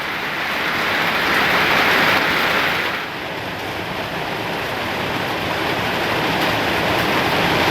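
Heavy rain pours down in a steady, loud broadband hiss that holds for the whole stretch, easing slightly partway through, with no voices.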